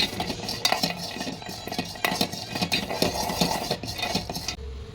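Cashews and peanuts stirred while frying in a pan, with a steady scraping and clinking of a utensil against the pan over a constant sizzle, close and fairly loud throughout.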